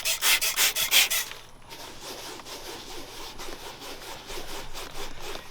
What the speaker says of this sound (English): I'm just gonna wipe it away